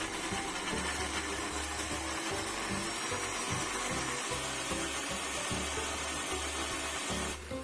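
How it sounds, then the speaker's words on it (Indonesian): A blender grinds roasted candlenuts with oil, a continuous dense motor whir with choppy, rhythmically varying low churning that runs for about seven seconds before cutting off, close and fairly quiet, with no talking. "Kalau kemirinya udah halus kayak gini, aku matikan dulu blendernya."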